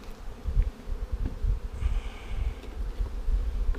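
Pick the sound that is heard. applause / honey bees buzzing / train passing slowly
honey bees buzzing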